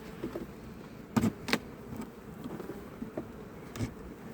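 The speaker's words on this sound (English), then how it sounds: "Here comes the bees. They're ready." Honey bees from an opened homestead hive buzz close by in a faint, steady hum. Louder individual passes swell now and then over the low drone, with no voices.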